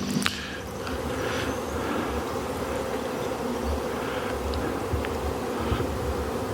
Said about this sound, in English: So I think there's a lot of bees here.